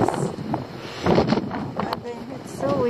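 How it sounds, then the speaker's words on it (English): Gusty mountain wind near Mariazell, Austria rumbles against the microphone while a person talks nearby, with wind noise rising and falling beneath the voice. "It's so windy."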